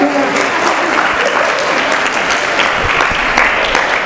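Steady applause from an audience at an Islamic religious talk, loud and continuous with a crowd clapping together, a faint voice briefly audible.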